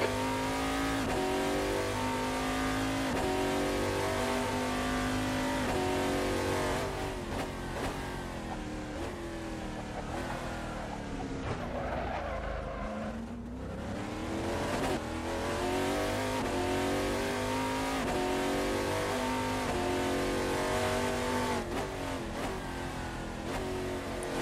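An Oreca FLM09 race car lapping Sentul Circuit in a sim racing game, its engine revving hard and loud through repeated upshifts and downshifts, with a brief lift and dip midway before climbing again.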